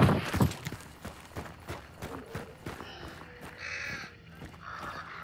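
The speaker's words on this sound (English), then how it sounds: "Hey, birds." Crows cawing in Hunt: Showdown, a burst of harsh caws alongside quick clattering hoof-like thuds, then several scattered calls fading off over a few seconds, moderately near.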